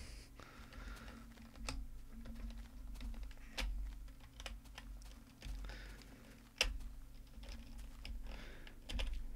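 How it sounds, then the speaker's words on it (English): Rapid, uneven typing on a computer keyboard with a stuck key, a steady stream of close clicks and taps with a few sharper louder strikes, over a low background hum. "Stupid keyboard."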